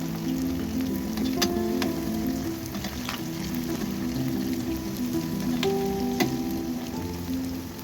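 Cauliflower pieces coated in masala frying in hot oil for a crispy fry, a continuous close crackling sizzle with occasional sharp pops and light utensil taps, no talking.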